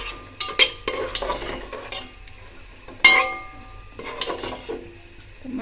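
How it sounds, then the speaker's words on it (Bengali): Meat being stirred and fried in a pan on a home kitchen stove: a spoon scrapes and clatters against the pan in uneven strokes over a low sizzle, close and alone with no talk. "ভালো করে কষাই নিতেছি, কষায় তারপরে আমি মাংসটা দিয়ে দেবো"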